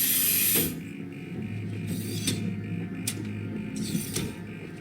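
Clicking screw mechanism in the video game Alien: Isolation, a steady run of small ratcheting clicks with a few sharper mechanical snaps, close and clear over a low humming background.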